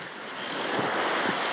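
Wind of about 10–15 mph rushes across the microphone aboard a sailboat in Alaska's Inside Passage, with waves washing steadily against the hull in a constant roar.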